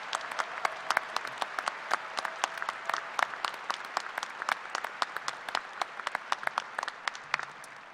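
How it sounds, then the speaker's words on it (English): Commencement audience at a K-State College of Engineering ceremony applauds steadily for about eight seconds, a dense wash of sharp individual claps from a large crowd at moderate distance, without talk. "Please recognize these individuals with a round of applause."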